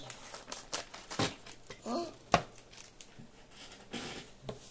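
A dragster kit packet being cut open at home, with crinkling plastic, snips and rustling handling sounds in bursts, close by, alongside faint background noise.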